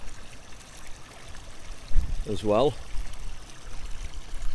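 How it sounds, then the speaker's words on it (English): Water flows out of a field drain pipe into a ditch on a farm, a steady faint trickle under outdoor noise, with someone speaking briefly partway through. "So this is one of the drain pipes he's found. Just see water there coming out well"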